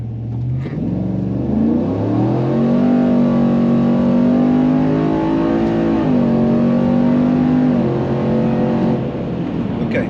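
A 2020 RST pickup accelerates hard through its 1-2, 2-3 and 3-4 gear shifts near 6400 RPM, engine note rising steadily, dipping at each shift and climbing again, loud and continuous with no talk.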